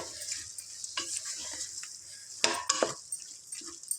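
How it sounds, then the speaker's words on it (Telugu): Eggplant curry is stirred in a pan, with soft sizzling underneath and several sharper scrapes and clinks of the spoon against the metal, close and fairly quiet. "ఇది ఒక వన్ మినిట్ ఇలా కలుపుకోవాలి"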